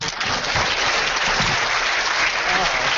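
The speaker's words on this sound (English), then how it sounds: "Yeah, you can give me applause." Dense, steady applause from a crowd, loud and continuous throughout with a few faint voices underneath.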